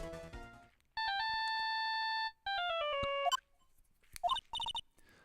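A phone rings in the game Phoenix Wright: Ace Attorney – Justice for All as a synthesized electronic ringtone, two sustained bursts of stacked tones followed by short chirpy blips, clear and alone with no talking.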